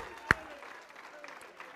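A church congregation at a worship service gives one big unified hand clap of praise: a single sharp, loud burst early on, followed by faint room ambience.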